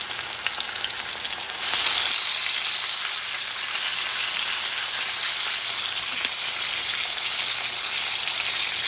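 Pork chops frying in oil in a pan over medium-high heat make a loud, steady sizzle with a hissing spatter that swells slightly after the first couple of seconds and then holds even.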